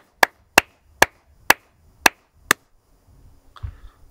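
Six crisp hand claps in a steady, evenly spaced rhythm, close and loud, each cut off sharply, followed by faint rustling and handling noise.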